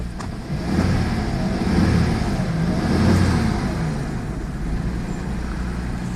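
The V12 engine of a 1990 Jaguar XJS idles close by with an unsteady, surging rumble, swelling and easing in slow waves.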